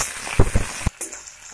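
Onion and garlic paste frying in a pan, a soft sizzle broken by a few close thumps and stirring knocks before dropping to a quieter hiss.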